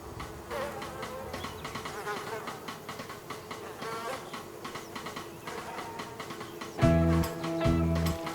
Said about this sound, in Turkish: Arılar!